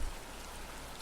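Continuous rainfall in the indie visual novel Deluge, a soft even patter filling the space, opening with a brief low thump.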